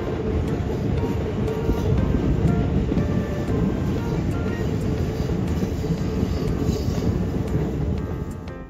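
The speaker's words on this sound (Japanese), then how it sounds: "すぐさま松戸方面の列車も来たのぜ。" A Shin-Keisei Line train heading toward Matsudo arrives close by, a continuous heavy roar of wheels on rails and passing cars that holds steady throughout before fading at the very end.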